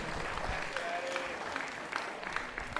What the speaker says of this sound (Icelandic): gefum hann gott klapp